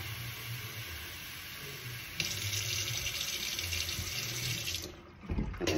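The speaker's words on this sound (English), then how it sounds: "Let me pour some right now in the cup." Tap water runs steadily into a small cup beside a sink, a continuous close splashing rush that grows brighter and fuller partway through, then cuts off abruptly near the end.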